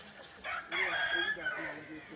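A rooster crows once in a village during wedding festivities, a short strained call that rises and holds for about a second at moderate distance over quiet background.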